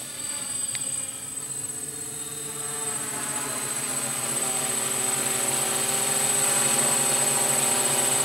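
A UAV-America MR6 hex multirotor drone hovering and loitering in flight gives a steady, sustained rotor buzz and whine that holds level and grows slightly louder, with no talking over it.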